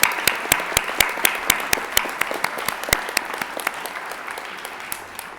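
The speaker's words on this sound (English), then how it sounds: "That deserves a round of applause." An audience at a winter commencement ceremony claps steadily, a dense crowd applause with sharp individual claps standing out close by and slowly thinning toward the end, no voices over it.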